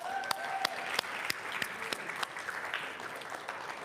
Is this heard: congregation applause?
yes